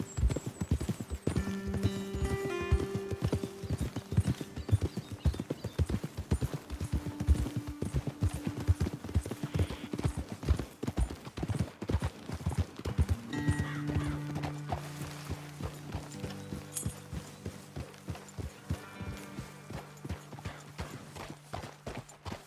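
Horses trot in the video game Red Dead Redemption 2, a fast, steady clip-clop of hooves close by that runs throughout, with an occasional neigh and soft tonal music underneath.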